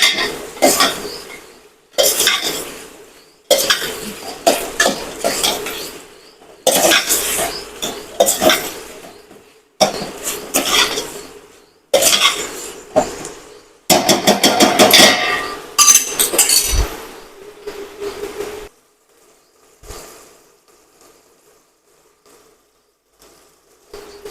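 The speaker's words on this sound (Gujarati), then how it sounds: "હવે આપણે તેમાં સુધારેલા બટેટા નાખી દઈશું અંદર અને હવે આપણે તેને સારી રીતે હલાવી લઈશું" Chopped potatoes with spices stirred in a pot for a spicy Gujarati potato curry, loud rhythmic bursts of spoon scraping and clinking against metal, separated by short pauses, then quieter occasional taps.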